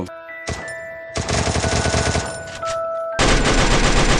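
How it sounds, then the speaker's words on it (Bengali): Rapid video-game machine-gun fire in sustained bursts with short gaps, loud and close, with the volume jumping higher toward the end. "একটা এনিমিকে দেখে ফায়ার করা শুরু করে"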